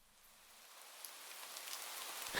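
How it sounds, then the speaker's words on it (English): In the video game Do Not Take The Cat Home, rain falls as a soft steady hiss that gradually grows louder, with no voices. "Rain's picking up."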